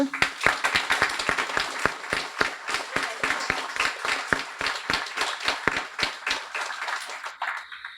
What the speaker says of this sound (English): So I've asked that we give each of our volunteers a well-deserved round of applause.